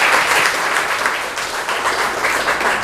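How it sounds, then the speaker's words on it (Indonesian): A classroom group of students gives sustained applause for the first group after it finishes presenting its motif, dense continuous clapping filling the room at steady loudness. "Tepuk tangan untuk kelompok 1."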